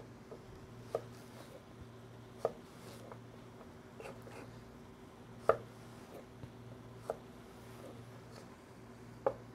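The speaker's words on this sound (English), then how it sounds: "I'm going to finish cutting up my celery over here" A knife chops celery on a cutting board while preparing shepherd's pie, giving sparse, crisp single chops about every second or two, fairly soft, over a steady low background hum.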